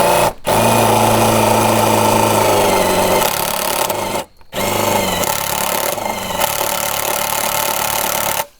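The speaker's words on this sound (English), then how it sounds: "So I'm gonna start with drilling it out." A power drill whines loudly and continuously at close range, drilling out a screw with a DeWalt screw extractor bit, cutting out briefly twice before spinning up again.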